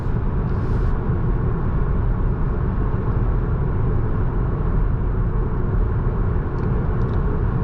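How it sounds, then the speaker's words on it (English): A 2026 Lucid Air Touring cruising at 70 mph carries a steady, broadband road rumble inside the cabin, continuous and even throughout, with no voices. "Road noise is not that loud, even though we're going like 70."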